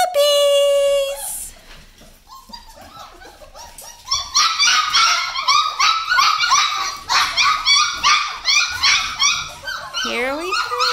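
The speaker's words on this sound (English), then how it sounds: "Puppies, puppies, puppies!" Several Doodle puppies at feeding time bark, yip and whimper in a busy, overlapping chorus close by, after a person calls to them at the start.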